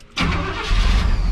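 A bargain-find vehicle's engine cranks and catches after a brief quiet moment, then runs loud and steady with a deep, rough rumble close by.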